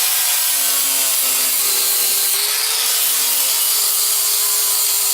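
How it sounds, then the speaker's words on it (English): A flap disc on an angle grinder cleans metal surfaces ahead of welding for a DIY grip strength weight rack, giving a loud, continuous abrasive whine with a steady high hiss that carries on without pause and with no talk. "Now I'm gonna just clean up the surfaces I'm going to weld with a flap"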